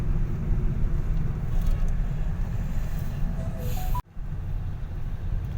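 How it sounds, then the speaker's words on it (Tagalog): Road traffic on a busy street in the Don Antonio area, a steady low rumble of passing cars and engines with no talk, continuing throughout apart from one brief dropout near the end. "medyo traffic na naman"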